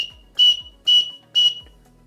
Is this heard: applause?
no